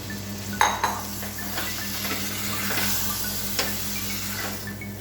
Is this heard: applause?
no